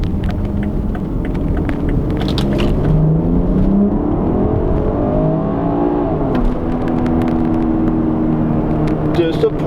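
A 2020 BMW X3 M pulls away from a green light, its engine rumbling and climbing in rising revs through steady road noise, with someone talking over it throughout.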